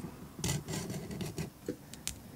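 A handsaw rasps across a hard stone seal blank, scoring it in a few short back-and-forth strokes, close and fairly quiet, followed by a couple of light taps.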